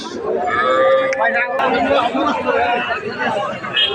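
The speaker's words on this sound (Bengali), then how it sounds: "শাহিওয়াল জাতের বাছুরগুলো এখানে রয়েছে" Sahiwal calves moo close by amid a noisy crowd at a calf market, with people chatting and talking throughout.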